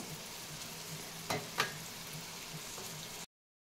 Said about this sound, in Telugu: మన వెజిటేబుల్స్ ఇలా ఫ్రై అవుతున్నప్పుడు